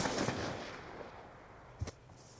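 Gunfire in Call of Duty Black Ops 2: a loud burst fading out at the start, then a single sharp shot and a quick second crack near the end, fairly quiet overall.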